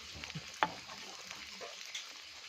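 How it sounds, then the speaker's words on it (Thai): An egg frying in a pan makes a soft, steady sizzle with a faint crackle, and one sharp tap or scrape comes early on. No one speaks. "นี่ครับ เมนูทอดไข่ รอไข่สุกก่อนนะครับผม"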